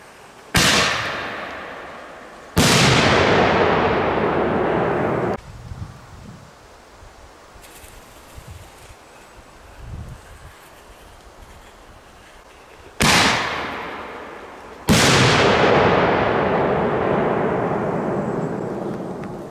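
Heavy fireworks go off outdoors in four loud, close blasts that come in two pairs. Each crack decays over a couple of seconds, and quieter wind and rustling fill the gap between the pairs.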